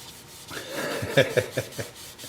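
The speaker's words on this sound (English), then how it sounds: "starting with 80, working up through 400" Sandpaper rubbing over a turned wooden bowl on the lathe, a few rhythmic scratchy strokes close by, the pulses growing sharper toward the middle before easing off, with no talking.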